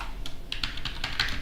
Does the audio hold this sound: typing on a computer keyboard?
yes